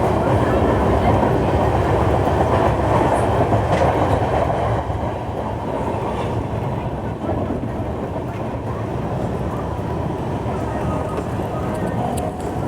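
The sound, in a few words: Shirdi Mysuru Express train running on the tracks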